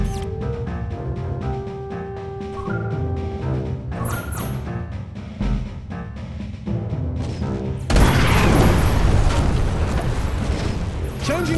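Ship cannons fire during a naval-style space battle in the Treasure Planet: Battle at Procyon game, a loud, roaring broadside bursting out near the end after scattered booms, clanks and tonal game sounds.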